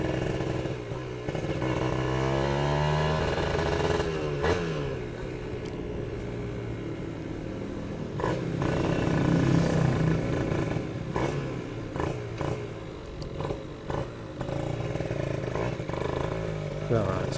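A two-stroke Kawasaki Ninja engine idles and revs nearby, its buzzy drone rising and falling with a few sharp throttle blips, while someone talks over it.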